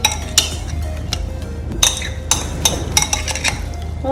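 Clinks and scrapes of a utensil mixing avocado sandwich filling in a bowl, with a steady run of light taps and a few sharper knocks against the bowl, close up over a low steady hum.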